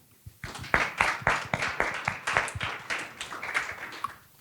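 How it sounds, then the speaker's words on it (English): Applause from a small audience, a handful of distinct, sharp claps in an irregular sputter, near and moderately loud, tapering off toward the end. "A round of applause."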